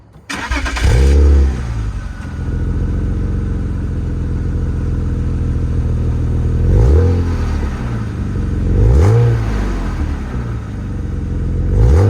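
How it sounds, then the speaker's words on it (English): A BMW E36 M3's stock exhaust rumbles loudly at idle, with several sharp revs rising and falling, close by and without any talking. "let you guys hear the stock exhaust system on this E36 M3"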